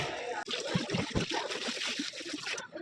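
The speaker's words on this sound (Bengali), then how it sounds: "সো ফার্স্টে আমি চিকেনটাকে ধুয়ে নেবো" Water runs and splashes over raw chicken being rinsed for KFC-style fried chicken, a steady trickle with splattery bursts, close and fairly loud, stopping abruptly near the end.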